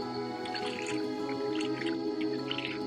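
Water of Than Rattana waterfall in Khao Yai National Park, Thailand, splashing and dripping in a constant trickling wash heard from nearby at a moderate level, with no talk over it.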